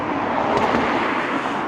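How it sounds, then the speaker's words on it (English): Road traffic hisses past in a steady, broad wash of noise outdoors near old slag heap sites in Sheffield, with no voices over it. "Sorry about traffic noise."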